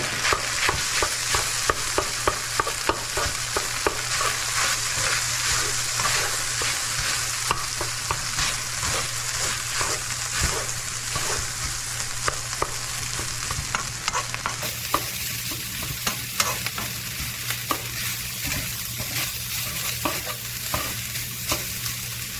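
Day-old white rice stir-frying in hot oil for Cajun fried rice, with a continuous loud sizzle and repeated scraping stirs of a spoon against the pan. A low steady hum from a stove fan runs underneath.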